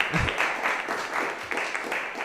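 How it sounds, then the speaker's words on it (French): Audience applause at an annual scientific conference, a steady wash of many hands clapping at moderate level, somewhat distant, with a brief voice near the start. "On applaudit une deuxième fois."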